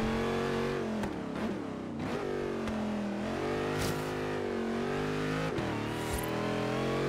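Mercedes C63 AMG engine in the racing game Forza Horizon 3, loud continuous revving with rising pitch and quick shift drops, a few sharp pops and ticks between gears.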